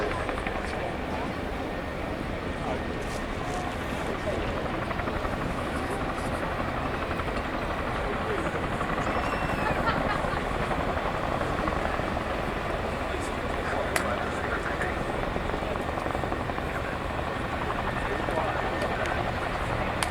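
A Chinook helicopter flies a role demonstration display at the RIAT 2025 air show, its heavy rotor and engine roar sustained and loud throughout, with a voice talking over it.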